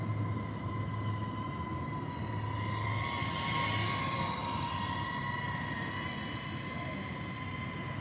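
A DJI Avata FPV drone in flight, a steady buzzing whine of propellers with tonal motor harmonics that swell slightly around the middle, continuous and fairly close, with no talking over it.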